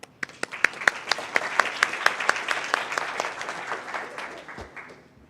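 A room full of people at a Tomball school district board meeting applauds the cheer team. Sharp individual claps start the burst, then thicken into steady, dense clapping that gradually thins and fades toward the end.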